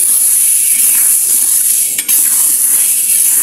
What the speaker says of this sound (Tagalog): sasangag na natin yan hanggang sa magkulay brown